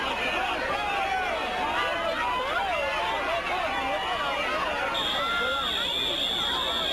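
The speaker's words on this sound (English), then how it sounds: "Fire alarm goes off." A school fire alarm sounds during a simulated active shooter event, a steady high electronic tone joining near the end over loud crowd chatter, shouting and babble throughout.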